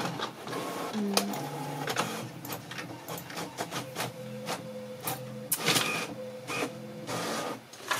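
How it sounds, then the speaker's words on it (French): A printer works steadily, whirring and clicking with mechanical tones as paper feeds through, close and moderately loud with no talking. "j'ai mis à imprimer"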